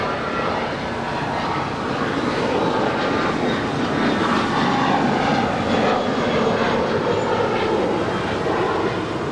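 An American Airlines jet takes off from runway 25 right at Los Angeles International, its loud, dense engine roar holding steady and close for the whole stretch with no talk.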